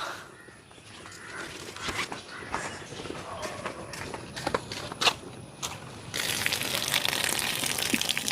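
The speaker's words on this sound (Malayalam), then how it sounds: "ഞാനിത് ഗ്യാസ് ഓഫ് ചെയ്ത് നമുക്ക് ഈ വെള്ളം ഒന്ന് ഊറ്റി കളഞ്ഞെടുക്കാം" A few clunks and knocks from a pot of boiled tapioca, then a steady rush of water draining out for the last couple of seconds.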